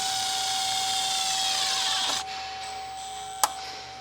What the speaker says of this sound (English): now we're going to take a self-tapping screw and screw it, a self-tapping screw to hold the module up.